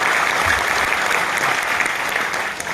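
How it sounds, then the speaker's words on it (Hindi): A business-event audience gives loud applause for Gujarat, a dense, continuous round of clapping close by that eases slightly toward the end. "मैं चाहूंगा एक बार गुजरात के लिए भी जोरदार ताली होना चाहिए"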